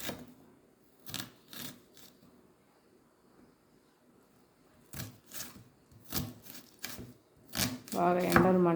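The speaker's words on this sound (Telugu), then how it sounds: "ప్రస్తుతానికి ఆనియన్ కట్ చేసుకుంటున్నాను అండి" A knife chops onions on a board for egg curry in a home kitchen, a few separate sharp cuts spaced apart with quiet gaps, close and moderately loud, and a short bit of speech at the end.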